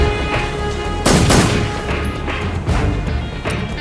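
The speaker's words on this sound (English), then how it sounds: "I'm running low on ammunition, so I'm gonna have to throw a lot of grenades." Gunfire and grenade blasts from the video game Metal Gear Solid 3, dense and loud with a big burst near the start and repeated crashing bursts over a constant electronic background.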